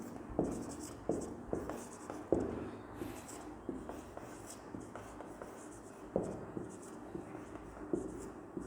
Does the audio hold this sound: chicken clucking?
no